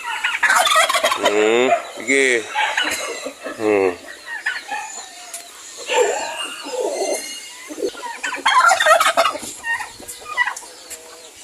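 A turkey gobbles in bursts of rapid warbling calls, fairly close, mixed with other fowl and chick noises and a brief spoken word.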